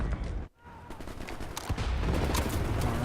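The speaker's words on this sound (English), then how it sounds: "Right, lads, you ready to lay down suppressor fire?" Suppressing gunfire in Wolfenstein: The New Order, a dense continuous fusillade of rapid shots and machine-gun bursts, loud and close, briefly dropping out before resuming heavier.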